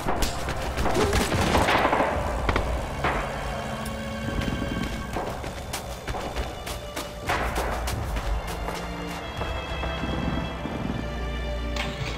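Machine-gun fire from an MG42 in the World War II shooter Red Orchestra 2, with sharp bursts of rapid shots and scattered gunfire over a continuous battlefield din throughout.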